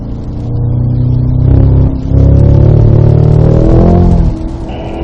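Cadillac CT5-V Blackwing with six-speed manual accelerating on a wet track at Spring Mountain, Pahrump: a loud, close engine roar climbs steadily in pitch, dips briefly around a shift, then pulls again and eases off.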